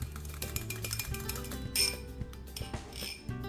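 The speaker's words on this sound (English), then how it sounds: "I'm going to whisk it to create an emulsion" Olive oil, vinegar and salt whisked in a bowl into a vinaigrette, a quick run of light metallic clicks and taps of the whisk against the bowl, close and fairly quiet.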